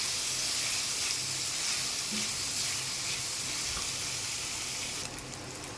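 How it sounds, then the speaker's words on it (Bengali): Papaya frying in a pan with onion, garlic and ginger, a steady broadband sizzle and hiss filling the whole stretch, close and fairly loud, easing slightly near the end, with no talking. "পেঁপেটা হালকা ভাজা হয়ে গেছে, এখন পেঁয়াজ রসুন আদাটা দিয়ে দিলাম।"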